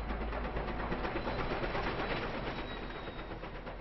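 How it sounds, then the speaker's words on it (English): A train rumbles steadily with a broad, continuous roar, heard from nearby and gradually easing off slightly toward the end. "And the train goes right across this spine."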